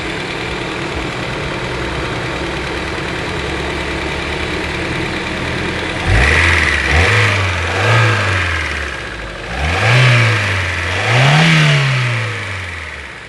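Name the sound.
car engine revving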